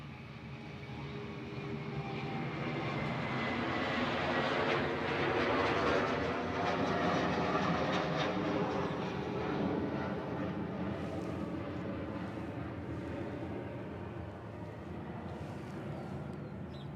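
A cargo aircraft moves on the airfield at Honolulu's Hickam AFB, a sustained low engine rumble and whine heard from a distance that swells and eases over many seconds, with no voices.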